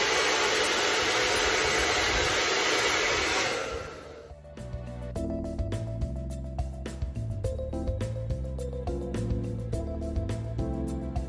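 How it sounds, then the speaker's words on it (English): A hair dryer blows loud and steady while a brush styles curtain bangs, a close whooshing roar lasting about four seconds before it cuts off and music carries on alone. "so you're gonna blow dry and pull to the opposite side"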